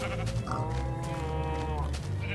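A Minecraft sheep gives a quiet, wavering bleat that stretches across most of the moment, with faint game ambience beneath it.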